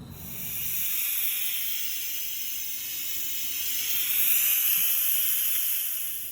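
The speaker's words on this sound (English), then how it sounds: "Look at that steam." Steam hisses steadily from an Instant Pot pressure release while cooking jerk wings, a loud broadband rush that swells and eases slightly, with no talk.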